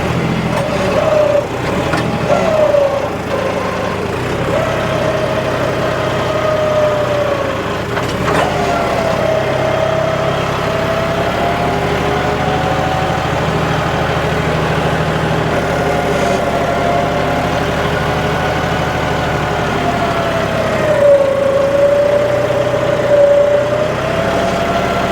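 A John Deere 5210 4WD tractor runs in a dry, crusted field, its engine holding a steady, continuous drone with a faint whining tone that dips and rises now and then, alone without talk.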